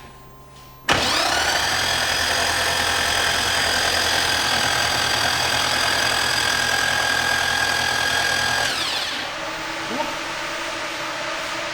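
The engine of a Nissan 350Z pro drift car is cranked over by the starter for about eight seconds, a loud, steady whirring drone with a high whine, then drops off into a quieter idle-like hum.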